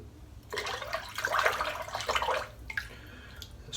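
Water runs and splashes as Soap Commander "Vision" tallow shaving lather is rinsed off a freshly shaved head, a close, uneven gush in bursts, fading to a trickle with a few drips.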